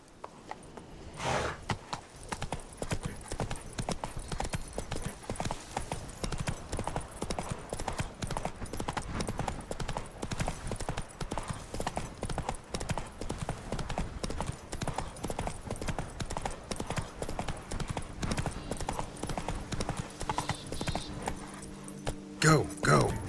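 Horse hooves clip-clop steadily at a trot in The Witcher 3 video game, a continuous rhythmic patter with tack jangling, running unbroken for most of the stretch with game music or voices underneath.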